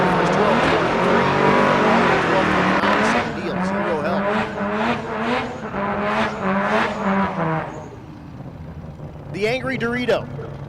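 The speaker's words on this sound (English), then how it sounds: "Vito doing the burnout. Yes, it's a rotary powered RX-7." Rotary-powered Mazda RX-7 doing a burnout at a dragstrip during race week, its engine screaming loud and sustained with tire squeal, then easing off, a commentator talking over it.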